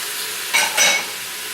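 Linguiça sausages drop into a pot of feijoada where bacon is already cooking, giving two short bursts of close sizzling over a steady frying hiss.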